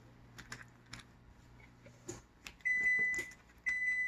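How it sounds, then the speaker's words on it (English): A kitchen oven gives loud, sustained electronic beeps after some light clattering, with one long tone, a brief gap, then another beep starting. "And that's our oven."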